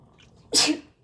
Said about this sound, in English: The pepper always makes me sneeze.